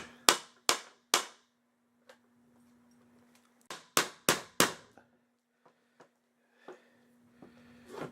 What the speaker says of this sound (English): bricklayer's hammer here.